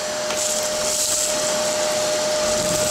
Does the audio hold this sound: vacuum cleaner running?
yes